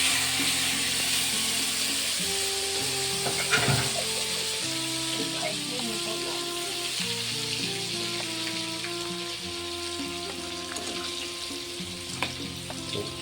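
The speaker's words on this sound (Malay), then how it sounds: "last kali kita buat ikan haruan goreng" Snakehead fish fries in a pan with a steady, close, continuous sizzle and crackle that holds at an even loudness throughout, with faint tonal sounds in the background.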